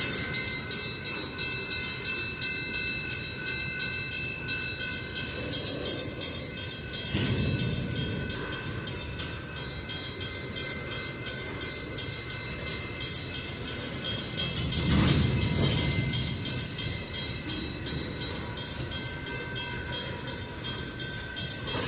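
A train rolls steadily past a railroad crossing, with a continuous rumble and rail noise throughout and two swells of louder low rumble as heavier cars go by, fairly close and with no talk.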